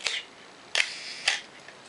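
A Pentax K film camera fires its shutter at a half-second speed: crisp mechanical clicks and a brief whirring rattle, repeated in quick succession, close-up with no talking.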